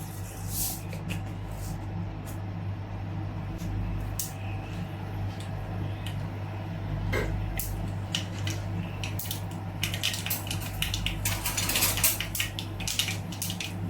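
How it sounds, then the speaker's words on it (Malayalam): Mustard seeds crackle and pop in hot ghee, with sharp scattered pops over a steady low hum, the popping growing denser toward the end. "കടുക് പൊട്ടി വന്നിട്ടുണ്ട്."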